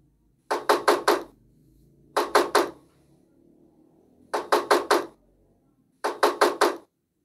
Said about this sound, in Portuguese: Ouça o som de uma pessoa batendo a porta.